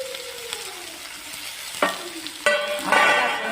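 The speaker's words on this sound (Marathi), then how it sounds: "आपण सगळं फ्राय करून घ्यायचं।" Cabbage, tomato and chilli stir-fried in a hot pan: a low steady sizzle with scraping stir strokes, building to a louder hiss and clatter in the final second.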